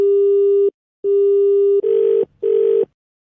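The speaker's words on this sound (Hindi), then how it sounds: "नंबर मिला रहा है भाई बार बार" Telephone tones repeat while a number is dialed over and over, steady beeps in four clear bursts, the later two harsher and buzzier, loud and close with no talk.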